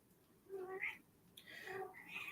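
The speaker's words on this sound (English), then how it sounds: "My cat has something to say about this." A house cat meows twice, the second call longer and more drawn out, close and clear, with a quiet pause between the calls.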